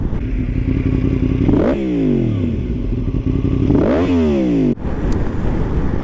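A Ducati Monster 937 motorcycle engine runs close by, rising and falling through loud revving sweeps as it accelerates and shifts through gears, with a brief cut near the end.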